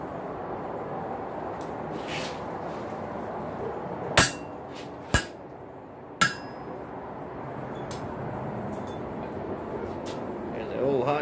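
A hammer strikes a chisel held against a steel rail spike three times, about a second apart. The blows are sharp, ringing and close, over a steady low background hum.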